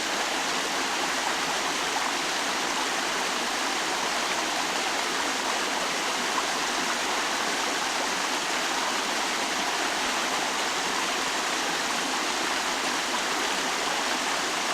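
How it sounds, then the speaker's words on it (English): A small waterfall in Stanley Park pours under a boardwalk, a steady, close rush of falling water that stays even and unbroken throughout, with no voices. "I enjoy listening to the waterfall. It's soothing."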